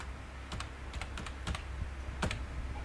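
Typing Java code on a computer keyboard: quiet, close keystrokes arrive in irregular clusters of soft clicks over a low background hum, with no talking.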